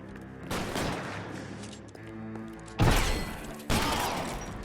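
Gunshots ring out in the 1940s Los Angeles crime game L.A. Noire, a loud crackling volley followed by two sharp, close blasts, with no talking over them.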